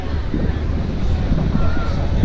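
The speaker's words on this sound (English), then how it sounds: "It's a wet and windy day." Gusty wind buffets the microphone on a wet day at a car show, a loud, low rumbling roar, steady throughout with occasional thumps and a faint voice underneath.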